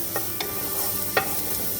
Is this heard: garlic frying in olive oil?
yes